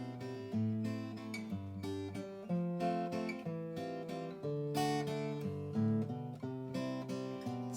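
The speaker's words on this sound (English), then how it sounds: "you can walk that bass line back up, so it sounds like this." Guitar playing a song, strumming chords while the bass notes walk back up to the start; a steady, clear rhythmic pattern of distinct plucked notes, close and alone, with no talking.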